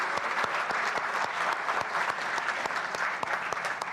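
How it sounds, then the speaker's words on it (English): An audience at a live-streamed research event gives a sustained round of applause, steady dense clapping filling the room at even loudness throughout, with no talk over it. "Can we have a round of applause?"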